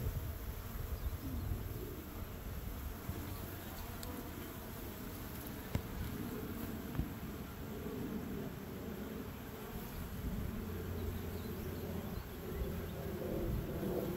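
Honeybees swarm around new backyard beehives, a dense continuous buzz of many insects close by, steady and unbroken under light wind noise.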